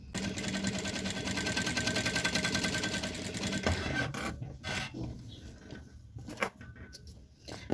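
A sewing machine stitches synthetic fabric for a jewelry holder, a steady rapid mechanical whir for about four seconds, close and loud, then stopping into quieter handling clicks and rustles.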